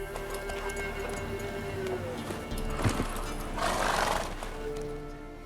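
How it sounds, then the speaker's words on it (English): A horse neighs and whinnies in The Witcher 3, with hoofbeats and ambient game sound, the whinny rising midway through. "Whoa there, Roach."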